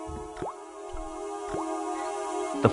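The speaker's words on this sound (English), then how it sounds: "The slow drip of water barely dampened the towel." Slow water drops from a faucet in the game Broken Sword Reforged, three distinct plinking drips spaced about a second apart over a faint steady hum.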